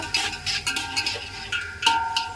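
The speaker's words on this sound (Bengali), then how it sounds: "মাংসটাকে ভালো করে কষিয়ে নিব" Meat being stirred and sautéed in oil with spices in a pan for chicken dum biryani, giving a series of soft scraping and clinking utensil strokes against the pan at close range, with no talk.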